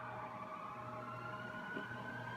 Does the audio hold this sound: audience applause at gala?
no